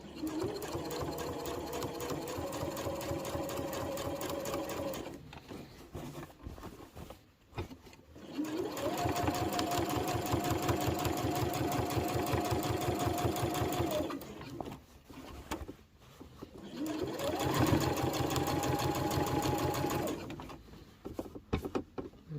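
A sewing machine back stitching over elastic on a fabric book sleeve runs in three long, steady whirring bursts, with brief pauses in between, close and clear.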